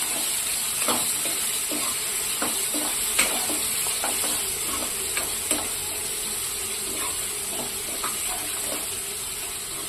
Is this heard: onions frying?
yes